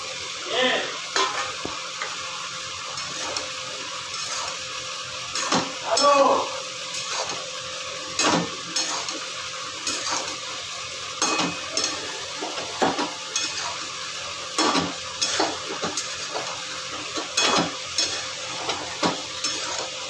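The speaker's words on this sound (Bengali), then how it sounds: "এবার আমি ভাজা" Okra frying in a pan for a curry, sizzling steadily while a utensil scrapes and stirs it in repeated clattering strokes, close and fairly loud, with faint voices in the background.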